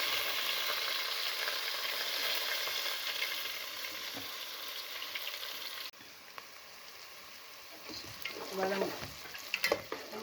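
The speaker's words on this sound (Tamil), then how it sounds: "வெங்காயம் பச்சை மிளகாய் எல்லாத்தையும் போட்டு" Onions and green chillies sautéing in a pan for kottu roti, a steady loud sizzle that drops a little midway, followed by scraping stirs and clatter from the utensil.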